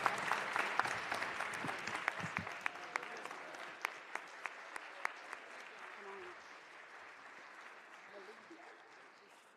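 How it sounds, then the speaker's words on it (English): An audience at a social justice symposium applauds a panel, with dense clapping, a few loud sharp claps standing out and some voices, slowly fading near the end. "Give this panel a great round of applause."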